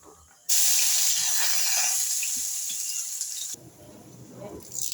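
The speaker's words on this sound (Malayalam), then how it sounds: "ഇനി നമുക്ക് അല്പം കടുക് താളിച്ചെടുക്കാം" Mustard seeds and small shallots hitting hot oil for tempering, with curry leaves, for a country chicken curry: a sudden loud hissing sizzle bursts in, holds steady for about three seconds, then drops back to quieter frying with faint crackles.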